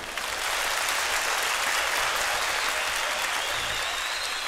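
Dense, sustained applause from an audience fills the space at a gaucho music performance, steady and loud without letup.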